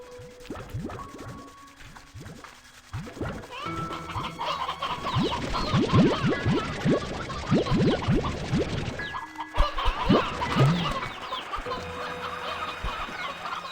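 Many roosters clucking in the video game Slime Rancher 2, a busy overlapping chorus of short clucks and squawks, with a few rising calls and a brief crowing note partway through.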